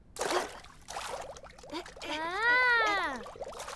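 Water pours and trickles in a cartoon scene as soap is mixed in for cleaning, a brief liquid splash heard between and beneath animated character voices.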